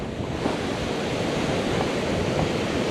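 Ocean waves and surf wash steadily onto a beach in Pondicherry, a dense continuous roar with wind buffeting the microphone and no voices.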